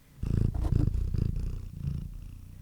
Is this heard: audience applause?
no